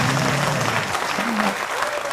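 A church congregation claps during a sermon, a dense burst of applause that fills the space close by, with a voice briefly rising over it.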